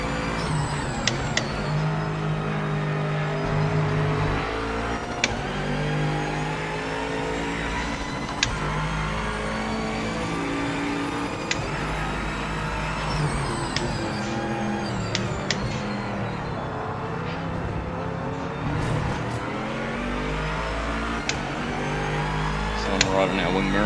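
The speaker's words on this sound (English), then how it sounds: "I love the different engine notes." Several racing car engines rev and drone continuously in the Project Motor Racing sim game, with rising and falling pitches and gear changes, loud and steady throughout, under a voice.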